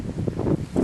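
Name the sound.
wind blowing on the microphone outdoors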